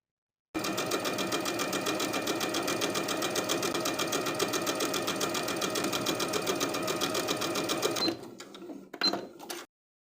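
Sewing machine hemming a T-shirt with a twin needle, one continuous fast, even run of close, loud stitching for about seven seconds, ending in a few short clicks and knocks as it stops.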